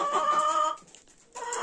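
Adler Silver hens and a rooster cluck close by in drawn-out, throaty calls, with a short pause before the clucking starts up again.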